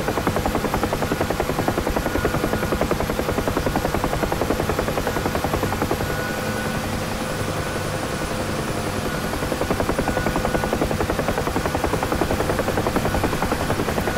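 Huey helicopter in a flight simulator game, with a steady rapid rotor chop over a continuous engine drone that stays loud and even throughout, and no voices.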